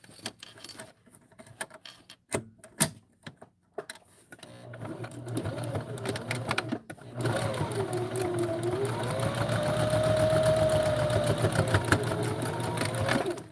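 A sewing machine top stitches the wing of a bag: a few scattered clicks and handling taps, then a sustained motor hum and rapid needle chatter that grows steadily and holds near and fairly loud.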